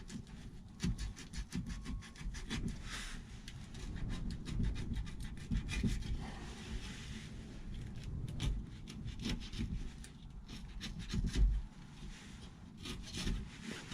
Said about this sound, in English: find where I put my Stanley knife, trim the carpet off